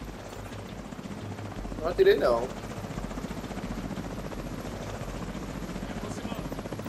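Helicopter rotors whir in the video game The Division 2, a steady rhythmic chopping throb running continuously at moderate level beneath a man's speech.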